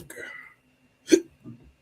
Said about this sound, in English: I always get the hiccups after class.